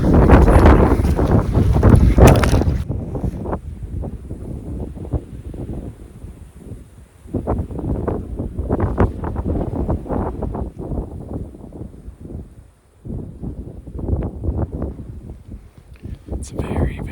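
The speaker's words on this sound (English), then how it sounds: "It's very, very windy." Strong gusts roar across the microphone on an Arizona hillside during a deer hunt, loud and blustery in repeated surges with brief lulls, and a voice speaks underneath.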